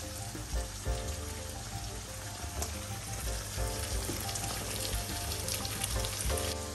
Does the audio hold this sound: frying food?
yes